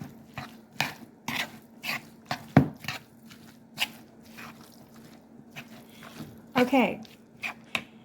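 Salmon cake mixture mixed with mayonnaise by hand, giving a series of close, irregular wet squishes and soft taps, roughly one every half second, over a faint steady hum, with a short spoken word and a brief voice near the end.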